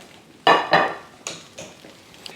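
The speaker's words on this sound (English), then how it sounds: "I'm going to put the skillet on top of the plate and flip again" A skillet holding a cabbage pie is set on a plate and flipped, giving two loud, close metallic clanks followed by several softer knocks and clinks of cookware.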